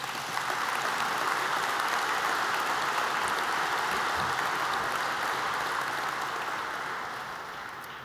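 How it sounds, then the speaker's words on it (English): Audience applause at a ribbon-cutting ceremony for the Holtec Technology Campus in Camden, New Jersey: a steady, dense wash of clapping from a sizable crowd that holds for several seconds and begins to thin toward the end. "Let's give Holtec and its leadership a round of applause."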